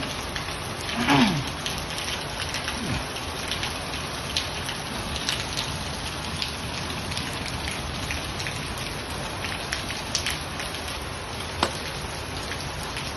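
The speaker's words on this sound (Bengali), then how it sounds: "অনেক বৃষ্টি পড়ছে" Heavy rain falls steadily in a continuous hiss of drops striking surfaces, with a brief faint sound near the start and a few sharper drip ticks.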